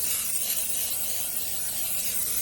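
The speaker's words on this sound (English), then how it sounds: "I'm going to spray them with the butter nonstick spray." A steady close hiss of butter-flavored nonstick cooking spray from an aerosol can, running continuously for a couple of seconds without speech.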